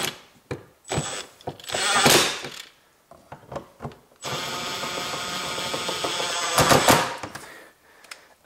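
A power screwdriver tightens screws on a BMW side mirror, starting with short intermittent bursts and clicks, then a longer steady whirring run, close and fairly loud, with no talk.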